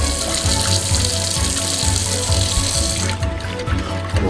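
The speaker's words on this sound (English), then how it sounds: "And then I'm gonna pour in the other cup." Hot water poured into a bowl of puppy milk formula, a loud continuous gushing stream lasting several seconds before easing off, with no talking over it.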